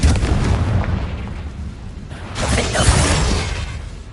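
A Confringo spell in Hogwarts Legacy detonates as a loud, close, rumbling blast, followed by a second explosive burst about halfway through, with debris-like crackle trailing off.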